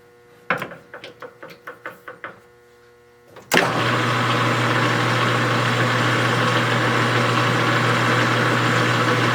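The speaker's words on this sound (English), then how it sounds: "The lathe hasn't been running, so I need to shift to a low gear here and run it a little bit." A lathe shifted into low gear: a few sharp clicks from the lever, then a loud, steady mechanical hum as the machine starts and runs on continuously, close by.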